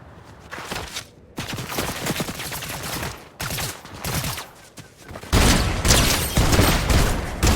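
Pistol shots ring out in Fortnite gameplay, loud repeated gunfire bursts in rapid clusters that grow denser and heavier toward the end.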